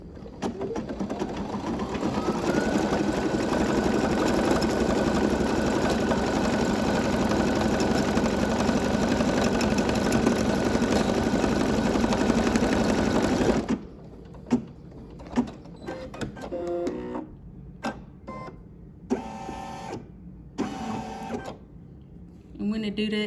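An embroidery sewing machine stitching a scalloped monogram appliqué hums and whirs loudly for about fourteen seconds, then stops, leaving quiet clicks and handling noises while someone talks.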